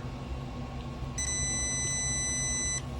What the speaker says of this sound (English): First time I got the beep.